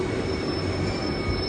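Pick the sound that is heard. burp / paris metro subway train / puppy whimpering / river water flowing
paris metro subway train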